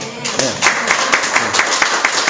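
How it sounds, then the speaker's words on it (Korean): A church congregation claps as applause to God during a Sunday sermon, fairly loud hand claps falling into a quick regular rhythm, with a voice briefly heard at the start. "하나님께 박수, 영광"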